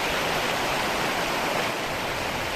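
Stream or canal water rushing continuously where fish swim upstream, a broad steady roar of flowing water close to the microphone, with no voices.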